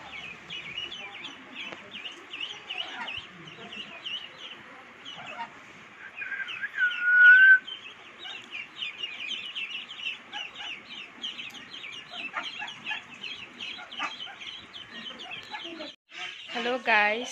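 A small group of ducklings at a home keep up a dense, steady chorus of high, thin peeps, close by and moderately loud, with a few louder cheeps standing out now and then.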